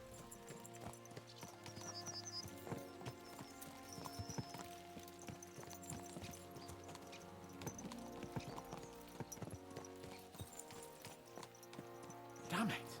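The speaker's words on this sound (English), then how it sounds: "Let's really spur these horses on, eh?" Horses gallop in Kingdom Come: Deliverance II, a steady clip-clop of hooves running under dense game music, with a brief whinny and someone talking over the ride.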